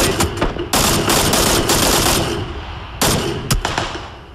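Loud close gunfire in the battle royale game PUBG comes as several bursts of rapid automatic shots with short gaps, each burst ringing out with a sharp echoing tail.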